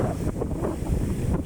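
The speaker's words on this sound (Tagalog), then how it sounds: "Hangin tsaka alon mga idol no." Strong monsoon wind buffets the microphone on a shore where large sea waves keep fishing boats from heading out, a loud, steady roar of gusts and surf with no voices.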